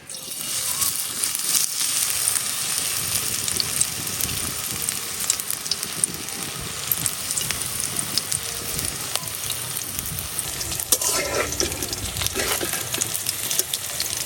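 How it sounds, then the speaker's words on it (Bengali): Helencha greens fritters frying in hot oil, a steady dense sizzle with faint bubbling that runs throughout, close and fairly loud, with occasional brief louder crackles near the end and no voices. "আর এদিকটা আমার তেল গরম হয়ে গেছে গা এখন আমি একটা একটা করে বড়া দিয়ে দেম"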